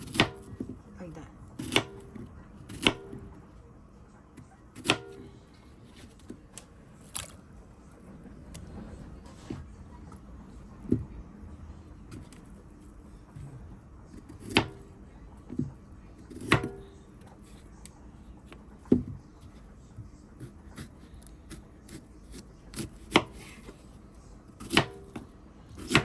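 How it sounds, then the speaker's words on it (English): A knife chops a Caribbean root vegetable into pieces for ajiaco or sancocho soup, with sharp, close, irregularly spaced cuts against a quiet kitchen background. "We're gonna slash it in the middle, and then we cut it one more time in pieces"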